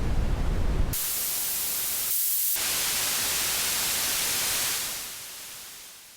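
A soloed noise layer from a synthesizer patch hisses as a steady, abrasive wash of broadband static, briefly cut at one point, then holding before fading lower toward the end.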